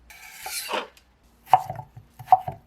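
A knife finely chopping red onion on a cutting board, heard as a quick rasping burst of close strokes followed by two short clusters of crisp knocks against the board.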